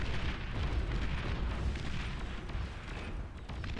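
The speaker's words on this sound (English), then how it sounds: "That's a Juno rocket right there." Rocket explosion from a Juno rocket in the real-time strategy game Beyond All Reason, a naval battle on the Silent Sea map: a dense, continuous rumbling boom with steady loudness, no talking.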